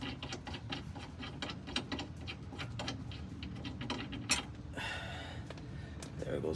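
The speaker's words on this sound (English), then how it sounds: "There goes one bolt." A bolt being loosened and removed during a rear sway bar install on a Honda Civic EJ8, with repeated soft mechanical clicks and creaks of a hand tool, close and moderate, without speech.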